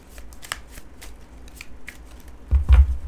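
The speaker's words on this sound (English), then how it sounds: "It's hard to shuffle now." Tarot cards are shuffled by hand close up, giving soft riffling flicks and light taps, then a few louder thumps of the deck near the end.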